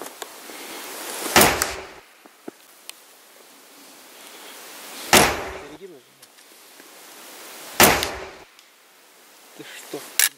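Three sharp, loud shots fired toward a position outdoors, spaced a few seconds apart, each a sudden broadband crack with a short decaying tail, with quiet background and faint rustling between.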